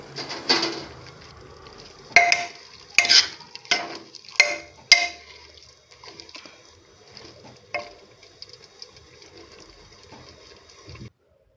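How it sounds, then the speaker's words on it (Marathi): Homemade paneer is gently folded into a mixed vegetable curry in a pot, with a few distinct spoon scrapes and soft clinks clustered early, then quieter stirring and faint sizzling tapering off. "आता ह्याच्यात पनीर टाकायचं. पनीर हे मी घरी बनवलेलं. हलका हाताने आता मिक्स करायचं."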